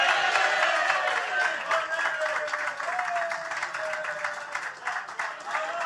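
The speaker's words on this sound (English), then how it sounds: "So a round of applause for them" A sustained round of applause from an audience at a GAA club draw, dense steady clapping with cheering voices mixed in, holding at full strength throughout.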